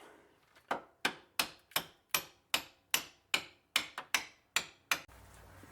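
A hammer taps a bolt out during a camber kit install on a Corvette, giving about a dozen sharp metallic knocks at a steady, quick rhythm, close and distinct, before stopping.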